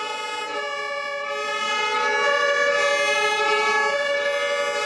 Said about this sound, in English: all it is a damn siren in the background